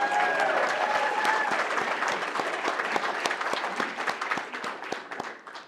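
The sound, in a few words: audience applause for the mayor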